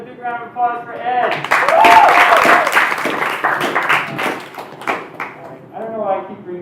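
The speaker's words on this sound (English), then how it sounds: "another big round of applause for Ed." A live audience at a student stand-up comedy show applauds a comedian, a moderate wash of clapping that swells in the middle while a voice talks at the start and end.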